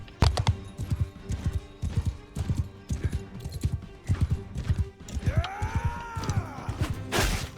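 Horse hooves clip-clop steadily in a video game, a rhythmic run of muffled thuds broken by a brief whinny, with faint voices underneath.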